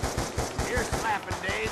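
Rapid automatic fire from an SMR rifle in Black Ops 2 Zombies, a quick run of sharp repeated shots over a little under two seconds, fairly quiet in the mix.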